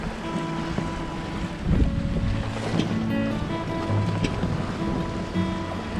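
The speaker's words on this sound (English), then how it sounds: "Well, we're getting waves from Earl, but they're not that bad." A sailboat moving through ocean waves of about 3 to 4 feet kicked up by a passing hurricane, with steady wash and wind noise around the hull, creaks and knocks on board, and a swell of water near the middle.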